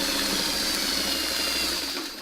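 Sewing machine stitching quilt blocks together for a mini Beggar's Block quilt, a steady continuous mechanical whir running close and even throughout, easing off slightly at the end.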